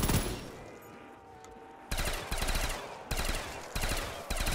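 An LMG light machine gun in Black Ops 3 Zombies fired in repeated long bursts of rapid, loud, close automatic shots, separated by short pauses, with no talking over it.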